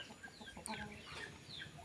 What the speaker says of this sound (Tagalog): Ayun, may tumitilaok na naman.